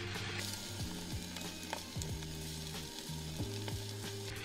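An egg omelette with soft peppers frying in a pan, a steady close sizzle with faint utensil scrapes and a low background hum.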